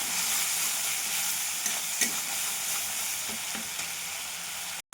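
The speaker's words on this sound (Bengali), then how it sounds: "ভালো করে কষে নেবো মশলাটা।" Poppy seed spice paste with salt and turmeric frying and being stirred in a pan for jhinge aloo posto, a steady soft sizzle with faint scraping of the spoon throughout, no talking.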